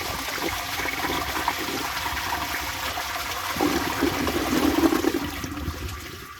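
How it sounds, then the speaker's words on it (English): A 1960 Standard Cadet toilet, long kept outdoors and refitted with a Briggs Ambassador handle and WDI flapper, flushes with a steady rush of water that swells and gurgles near the end before easing off. "So let's give it a flush and do some tests."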